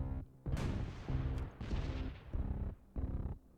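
Units shooting from the swamps in a wargame strategy roguelike. Several separate heavy bursts of gunfire and booms come in spaced volleys at a fairly faint level, with no talking.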